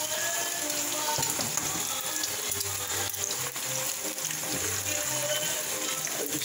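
Three eggs frying with salami in a pan, a steady loud sizzle and crackle running throughout with no talk over it.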